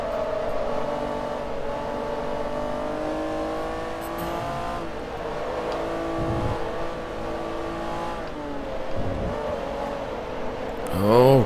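A racing car in Forza Motorsport 3 sliding over curbs, its engine droning steadily with shifting revs and a brief sharp rise at the end, no voices heard.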